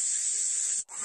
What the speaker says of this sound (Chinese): 这里呢它是刚才看到的那处瀑布